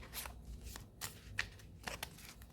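Tarot cards being shuffled by hand, a series of soft, quick riffling and slapping bursts repeating at a loose rhythm, close but faint.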